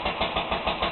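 A 1938 International Harvester McCormick Deering LB stationary engine of 1.5 to 2 horsepower, throttle governed rather than hit-miss, runs with an even, rapid chugging pulse, loud and close with no talk.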